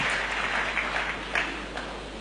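Church congregation applauding to acclaim the word of God, a steady wash of many hands clapping at middling volume over a low background hum.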